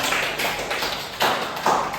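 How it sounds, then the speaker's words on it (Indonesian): A school class claps together in a rhythmic pattern, with bursts of hand claps landing roughly every half second, fairly close and steady. "Tepuk tangan dulu untuk kita semua."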